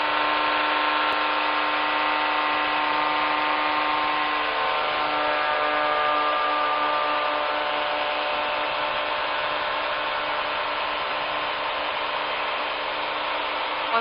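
A 1974 Cessna 210 Centurion's engine runs steadily and loudly throughout, a dense droning hum with propeller vibration that holds its level as the throttle is brought up slowly.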